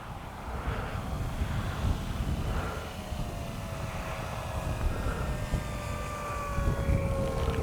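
An FMS 1800mm Ranger RC plane glides in to land, its electric motor whine falling steadily in pitch over a constant rush of wind on the microphone.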